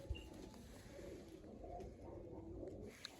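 Pigeons coo faintly and softly in a loft, a low murmuring drone that goes on the whole time, with no one talking over it.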